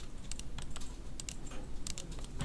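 Clicky computer keyboard keys tapped in quick bursts of a few strokes each, close and fairly quiet, with short pauses between the groups and a faint low hum underneath.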